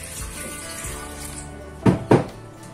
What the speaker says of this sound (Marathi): इथे पाणी टाकायचं आहे थोडं